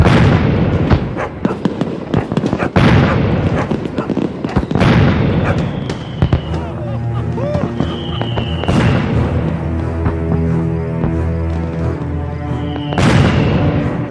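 Fireworks crack and boom in a movie scene, with repeated loud bursts and whistling streaks layered over a dense, continuous rumble and a music score, lasting throughout.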